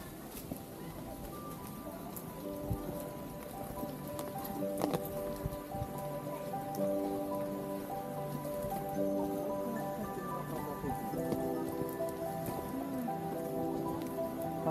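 Rain falls steadily through the forest on the Andharban jungle trek in Maharashtra, a soft even patter with occasional sharper drops on nearby surfaces, while people talk over it throughout.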